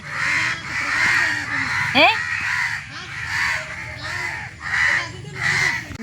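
Crows caw loudly and repeatedly in a noisy chorus close by, with a brief human voice in between.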